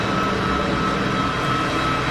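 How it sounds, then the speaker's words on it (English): A distant easyJet Airbus A320 jet on long final approach to Geneva Airport gives off a steady broadband roar, an even wash of engine noise with no voices over it. "So I got something on a fairly long final."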